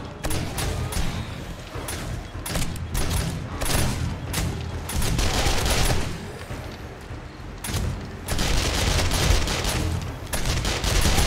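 Automated turret fire against zombies in the 7 Days to Die video game rattles in rapid, dense bursts of gunshots, loud and nearly continuous with brief gaps between volleys.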